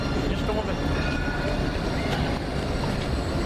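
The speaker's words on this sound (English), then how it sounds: "over there, coming in, is one of the original trams" Original Nottingham Incentro tram running along the rails, a steady loud rumble with faint high metallic whine, heard close and continuous with voices in the background.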